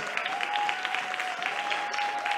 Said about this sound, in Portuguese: A igreja viva ficar de pé para aplaudir vocês.